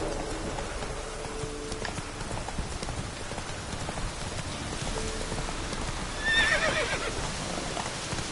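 Horse galloping in The Witcher 3, with soft rapid hoofbeats under rainy ambience and a brief whinny near the end, all fairly faint.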